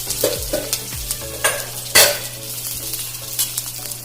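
Small onions sautéing in a hot pan for a Kerala crab roast, a steady soft sizzle broken by several scraping stirs of a spoon against the pan, close and without talk.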